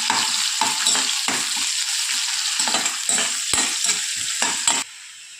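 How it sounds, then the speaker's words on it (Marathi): Finely chopped onion and green chillies sautéing in a hot pan, a steady loud sizzle broken by repeated scraping stirs of a spoon, close and with no talk. "बारीक चिरलेल्या मिरच्या बारीक केलेला कांदा टाकूया कांदा छान गुलाबी येईपर्यंत आपल्याला परतून घ्यायचा आहे"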